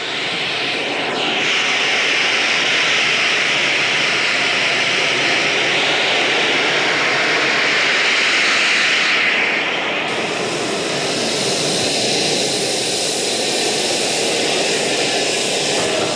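A model turbine-powered F80 jet flies and comes in to land, its steady turbine whine and roar holding loud and continuous throughout, swelling slightly mid-pass before settling back.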